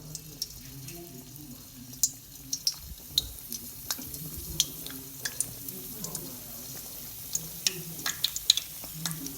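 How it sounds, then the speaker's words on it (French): Homemade pastels frying in hot oil give off a steady crackle with sharp scattered pops, while quiet voices murmur in the background. "maintenant, on va passer à la friture"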